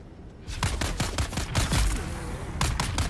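Enemies firing guns in Dune: Awakening, a dense volley of rapid shots starting after a brief quiet moment, loud and continuous, with a fresh flurry near the end.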